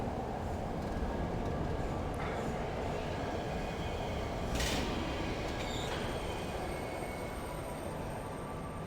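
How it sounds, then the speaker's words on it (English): Steady, continuous rumble of a train ride in the video game Riven, en route to Map Island, with faint rattles and a brief hiss of wheel noise partway through, all loud and close with no talking. "hopefully this is the right train to Map Island."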